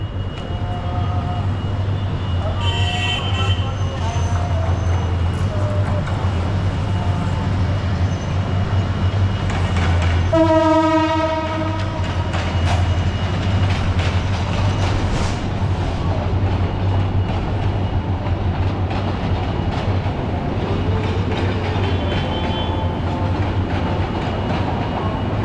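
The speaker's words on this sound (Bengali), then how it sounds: "কারওয়ান বাজার দিয়ে এখন ট্রেন আসছে একটি।" Train passing through Karwan Bazar in Dhaka, a steady loud low rumble with a horn-like tonal burst midway, heard outdoors amid city noise.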